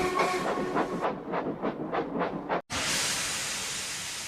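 A steam train runs along the rails with rhythmic clickety-clack, slowing in regular pulses before a brief silence and then a loud, steady hiss of steam as it stops at a station.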